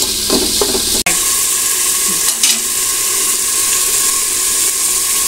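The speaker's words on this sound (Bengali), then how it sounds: "তো এখন আমরা মশলাটা ভালো করে নেড়ে চেড়ে কষায় নিব।" Spice paste for duck curry frying and being stirred in a pan, a steady loud sizzle with a sharp clink of the spoon and occasional scraping stirs, no talking.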